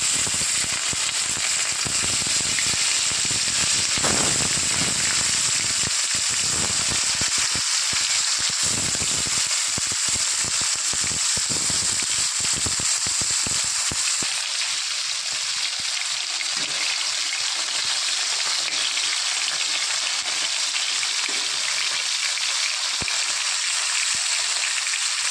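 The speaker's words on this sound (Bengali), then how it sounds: "মাছগুলো ভালো করে ভেজে নেব।" Bhola fish frying in hot oil in a wok, a steady dense sizzle with crackling spatter that runs continuously throughout, loud and close with no voices.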